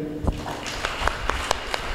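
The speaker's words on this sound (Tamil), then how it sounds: "ஜோரா கைதட்டுங்க" An audience at a Tamil Catholic prayer meeting claps in a steady, fairly even rhythm of separate hand claps, moderately close, with faint voices underneath.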